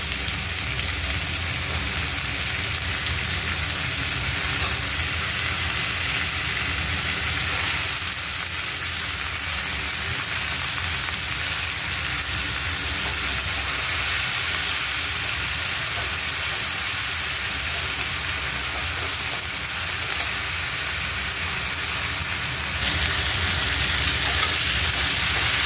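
Sliced eggplant fries in a pan for a Bengali-style drumstick curry, giving a steady, even sizzle that hisses on without a break and with no talk.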